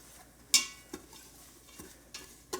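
A spoon stirring a tablespoon of butter into toasting grits in an Instant Pot, with a few sharp scrapes and clicks against the pot over a faint, quiet sizzle.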